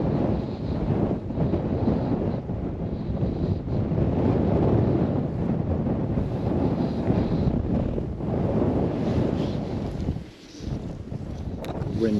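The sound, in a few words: strong wind while winter fly fishing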